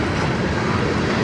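A CN freight train with truck frames passing close by on the Strathroy line near Sarnia, a loud, dense rumble and roar filling the whole moment.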